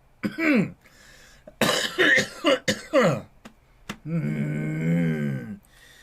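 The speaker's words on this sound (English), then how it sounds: "Coffee cough." Several sharp coughs burst out in quick clusters near the microphone, followed by a drawn-out throaty vocal sound.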